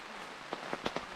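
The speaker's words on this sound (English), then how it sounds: "It's raining." Rain at a campsite in Mapungubwe, falling as a steady hiss with a few louder drops tapping nearby on a gazebo or tent.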